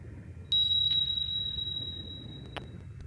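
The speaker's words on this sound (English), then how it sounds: "Maybe that's the sound of an electric torpedo," Electric torpedo in the submarine simulation game Sub Command, heard as a steady high whine holding a single pitch across most of the clip over a low rumbling hull background, punctuated by a couple of short sharp clicks.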